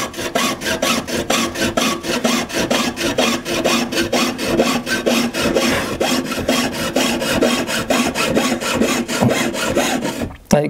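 Regular back-and-forth strokes of a jeweller's hand saw cutting metal, loud and close, a steady rasping rhythm that stops abruptly near the end.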